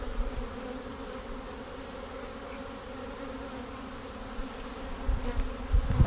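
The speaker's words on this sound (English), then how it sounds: "good number of bees over here" A large swarm of honey bees buzzes steadily and close, a dense continuous drone with a few louder bumps and handling noises near the end.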